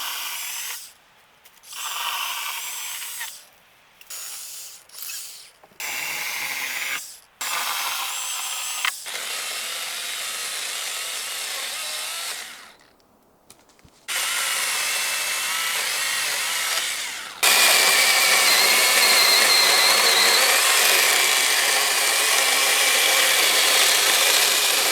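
A battery-powered Olmlmo chainsaw whines through a thick hunk of timber in repeated bursts, revving up and down between cuts, then settles into a long, loud continuous cut near the end.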